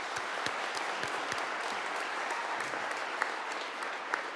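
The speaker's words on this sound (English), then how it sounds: "They're the ones that need your applause." Graduation ceremony audience clapping for parents, a dense, steady round of applause from a large crowd, somewhat distant and even throughout.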